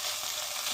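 Ingredients for a Thai red curry style soup frying in a pan, a continuous soft, even sizzle heard close up with no talking.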